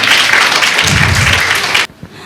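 Loud applause from a crowd at a school Ramadan welcoming event fills the space, then cuts off abruptly near the end.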